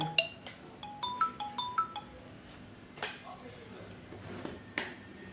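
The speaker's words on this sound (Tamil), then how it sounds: "அம்மா அப்பா ஃபோன் பண்ணுறாங்கம்மா." A phone ringtone for an incoming call plays a quick series of bright electronic beeps in a repeating melodic pattern, close and clear, followed by a few sharp clicks and taps in a quiet room.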